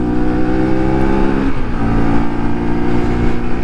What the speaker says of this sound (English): Alright, let's put a bit of throttle on.